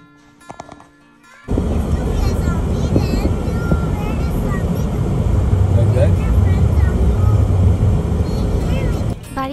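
A car drives through heavy snowfall on a road in extreme cold in Canada, its engine and tyres making a loud, steady rumble from inside the vehicle after a quiet start.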